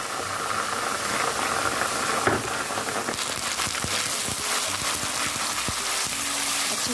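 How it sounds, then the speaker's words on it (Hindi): Ginger garlic paste sizzles in a pan of fried onions, giving a steady, continuous hiss and crackle of frying that stays even throughout with no speech. "प्याज फ्राई हो गई है, अब इसमें मैं अदरक लहसुन का पेस्ट भी डाल दूँगी।"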